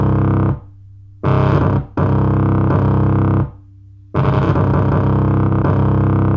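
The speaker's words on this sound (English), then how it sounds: "So I put on some distortion too, as well as overdrive, and that's what gave it this sound." A bass line is made in GarageBand from a chopped sample and run through heavy distortion and overdrive. It plays as loud, gritty sustained notes in choppy phrases with short gaps between them.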